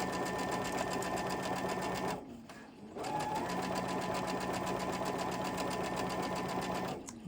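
A sewing machine runs steadily, stitching a quarter-inch seam along fabric, its rapid even needle rhythm continuing close and clear with one short pause before restarting.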